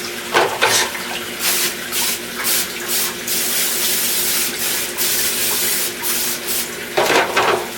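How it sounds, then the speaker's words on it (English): A steady hiss of olive oil pan spray runs throughout, with a few sharper bursts near the start and end, close and fairly loud. "I'm going to spray this with a little bit of olive oil pan spray"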